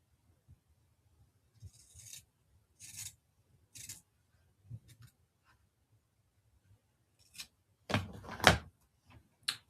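Scissors trim a fabric seam allowance in a few separate snips, spread out and close, with a louder, longer cut near the end and quiet pauses between.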